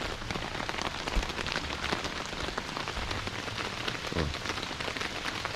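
Rain drums steadily on a hiking tent during a field test, a dense, close patter of drops striking the fabric with scattered louder taps throughout; no talking.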